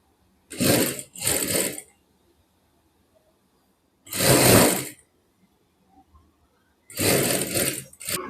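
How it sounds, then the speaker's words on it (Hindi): A sewing machine runs cover stitching on a shirt top in three bursts, two short runs close together, then a longer run and a final one, loud and near with quiet pauses between. "अब इसकी कवर सिलाई करेंगे।"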